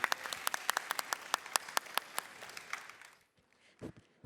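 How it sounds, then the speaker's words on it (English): Audience applause for a panel on the main stage of the InnovFest Unbound 2019 conference: a burst of crisp, distinct claps that thins out after about three seconds into near-silence, with a few scattered claps at the end. "Can we have a round of applause for our lovely panel?"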